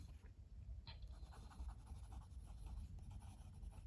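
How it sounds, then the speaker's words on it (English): Fountain pen with its nib flipped upside down scratching across paper in reverse writing, a steady close, continuous dry scraping with short strokes and no voices. "Reverse writing."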